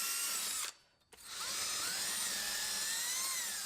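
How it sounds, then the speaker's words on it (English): A power drill with a cleaning attachment whines steadily against a rusty brake disc surface, stopping briefly and then spinning back up into a loud, continuous grinding hum. "I'm literally going to do this with a drill."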